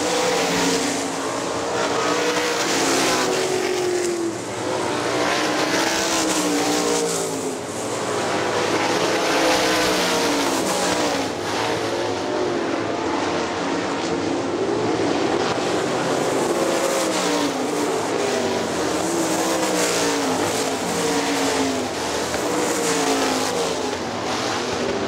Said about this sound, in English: Dustin Daggett running second now to the low side.